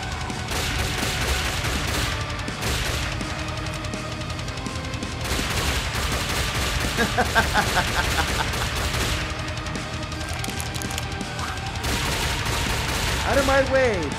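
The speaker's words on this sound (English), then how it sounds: "Those are guns." Continuous loud gunfire in the zombie game Drag the Dead, dense overlapping shots from several weapons over game noise, with occasional talking underneath.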